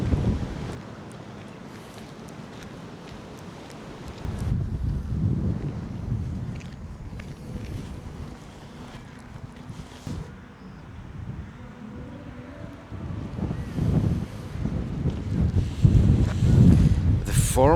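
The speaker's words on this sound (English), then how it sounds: "It is quite stormy today. Very windy" Strong gusty wind buffets the microphone on a stormy but sunny end-of-winter day on a town walk in Killarney, Ireland, roaring in rising and falling waves with no voices heard.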